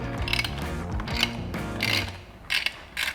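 A ratchet wrench cranks a bolt on the trolley handle of a King Song 18XL electric unicycle, with several close bursts of rapid clicking pawl ratcheting separated by short pauses.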